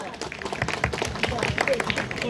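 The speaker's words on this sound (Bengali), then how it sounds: "ক্লাবের সকলের জন্য এবং বাপিদার জন্য একটা জোরে হাততালি সবার তরফ থেকে" Loud applause from an audience at a club stage event, dense overlapping claps mixed with voices and crowd noise, sustained throughout.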